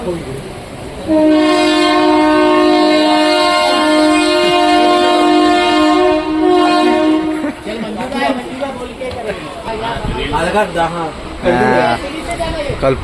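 A train horn blares loudly with steady sustained tones for several seconds, then fades into rumbling rail noise and overlapping chatter from nearby people.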